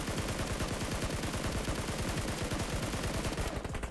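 Rapid automatic gunfire in a battle royale mobile game, a dense continuous burst of loud shots at close range that stops just before the end, with no talking.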